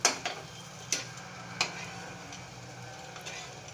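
Eggs fry in oil on a tawa for egg tawa masala, giving a faint, steady sizzle under several sharp taps and scrapes of a spatula or utensil against the pan.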